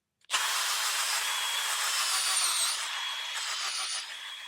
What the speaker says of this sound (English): And then I'll come in here with my drill. Got a little auger bit on here,